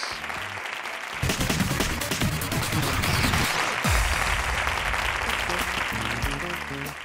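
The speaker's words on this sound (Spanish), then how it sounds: "El aplauso para ellos." A Spanish game-show studio audience applauds the contestants in a loud, dense burst of clapping that swells after the first second, with music and low thumps from the studio mixed in.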